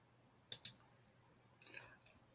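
Two quick, sharp clicks of a computer mouse sound close together, followed by fainter rustling and small taps in an otherwise quiet room.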